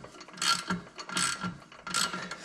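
A ratchet clicks in quick rattling bursts while cranking open the clutch on a Can-Am Maverick X3, about three close strokes with short pauses between, and no voices.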